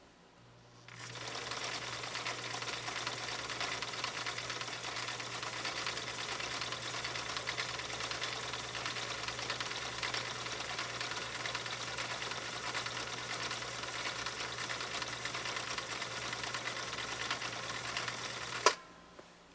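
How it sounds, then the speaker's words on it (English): A 1960 Viking Husqvarna CL-21A sewing machine stitches steadily with a fast, even mechanical whir and needle chatter, running close and uninterrupted for about eighteen seconds before stopping. "Let's launch right into this next sew off."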